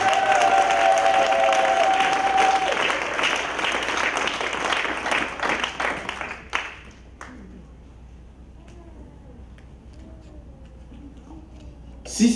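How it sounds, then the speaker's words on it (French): A church congregation bursts into sustained clapping for about six seconds, then the applause fades into a quiet room where faint sounds and a voice carry on. "Est-ce que quelqu'un peut donner une main d'acclamation?"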